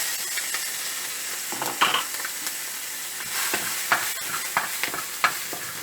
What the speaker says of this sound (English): Add little oil and then put in the sliced chilies